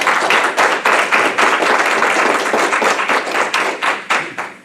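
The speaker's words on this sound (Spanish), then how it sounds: "¿Cuánto le dan el aplauso?" A church congregation applauding during a sermon, a dense, steady round of many hands clapping at close range, loud and sustained with slight swells and no talking over it.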